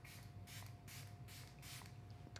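Makeup setting spray misted onto a face, heard as five quick, soft hissing bursts in a steady rhythm, close but faint, with no talking.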